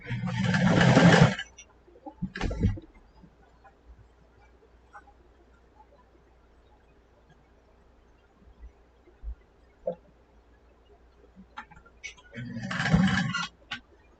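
A sewing machine stitches over a small rolled strip of leftover fabric while making a knotted collar, with two short loud bursts of motor whir near the start and end separated by quiet handling noises.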